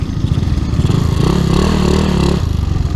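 A motorcycle engine fitted with an upgraded spark plug and running on E20 fuel, idling loud and close with a steady throbbing pulse that rises briefly in a short rev before settling back.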